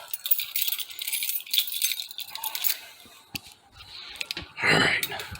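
Car keys jangle and clink in quick metallic bursts near a 1955 Chevy, then a brief louder rattle follows.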